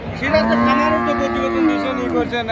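A cow moos loudly and close by at a Bangladeshi cattle market, one long drawn-out low call that holds for more than two seconds.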